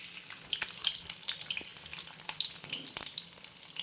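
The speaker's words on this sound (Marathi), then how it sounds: "आता तेल टाकून घ्यायचं भाजीमध्ये, आणि नंतर कांदा टाकून घ्यायचा." Onion frying in oil for a wild root vegetable dish, a faint, close sizzle with scattered soft crackles and pops, and no talking.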